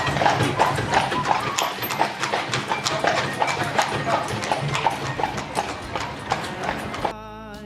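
Horse hooves clip-clopping at a steady trot while pulling a carriage through a national park in Ireland, a regular close rhythm of sharp hoof strikes on pavement continuing throughout.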